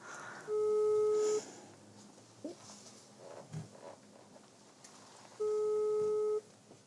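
Telephone ringback tone heard while calling someone, two long steady electronic beeps separated by a few seconds of quiet room noise and faint movement.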